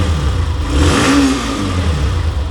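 A motorcycle engine idles, then revs up once in a short rising burst before settling back to a steady idle, heard up close.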